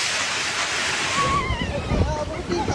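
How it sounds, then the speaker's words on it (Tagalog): Heavy surf slams the shore during a typhoon in Dipaculao, Aurora, with driving rain, a dense continuous roar of water and wind, then sharper sloshing surges as voices talk faintly over it. "may kasabay na malakas na ulan ang hampas ng mga alon"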